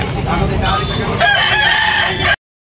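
Roosters crow at a busy chicken market in Tabunok, Talisay, Cebu, with loud overlapping calls and market chatter filling the short stretch before it cuts off.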